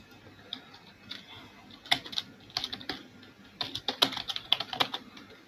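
Computer keyboard typing in short irregular bursts of clicks, fairly close and moderate in level, with brief pauses between runs of keystrokes and no talk.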